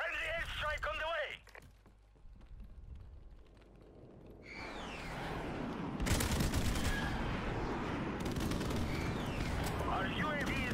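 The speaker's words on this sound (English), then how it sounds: "Friendly airstrike on the way." A friendly airstrike in the video game Modern Warfare Remastered lands as a sustained roar of rumbling blasts and crackling explosions, loud and continuous over several seconds, with in-game voice chatter heard early on.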